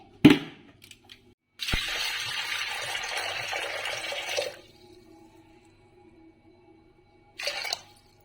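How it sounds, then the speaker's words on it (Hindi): Black lentils are rinsed under running water in a home kitchen, a steady gush of tap water lasting a few seconds, then a quieter pause and a brief second splash near the end. "इसको हम करेंगे वॉश अच्छे से"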